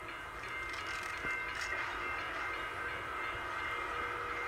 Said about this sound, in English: here comes the train right now, the second train